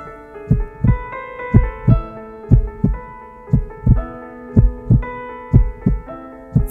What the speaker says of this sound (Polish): Wszystko zaczyna się od tego dźwięku. To bicie serca.